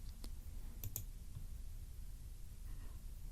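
A few quiet mouse clicks sound in quick succession near the start, then a soft muffled tap, against a low, faint room hum while working in Autodesk Inventor.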